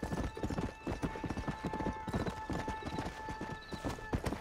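Galloping horse hooves in the open-world Western video game Red Dead Redemption, a fast, continuous clip-clop rhythm at moderate distance, with faint voices in the background.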